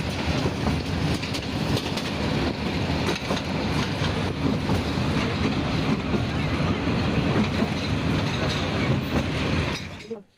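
A passenger train ride in Narayanganj, Bangladesh, heard from inside a carriage: a loud, continuous rumble with clattering wheels and a faint murmur of voices beneath it, cutting off abruptly at the end.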